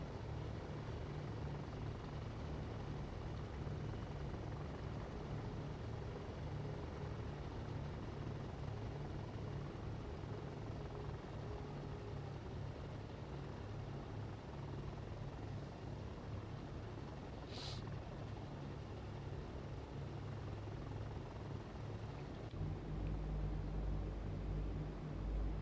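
A WWII-era piston aircraft engine in the IL-2 combat flight sim taxis at about 1100 RPM, a steady low drone and rumble that holds throughout and swells slightly near the end, with no voices.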